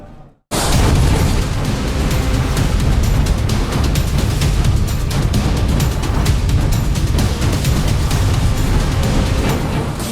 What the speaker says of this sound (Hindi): धमाके और धमाका,